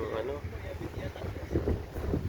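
Strong wind sweeps over the dark sea at night, buffeting the microphone with a loud, continuous roar that surges and dips without pause.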